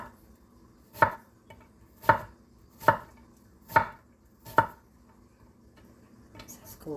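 A knife chops onions on a cutting board in a home kitchen, five sharp, evenly spaced thuds about a second apart, close and clear against a quiet background.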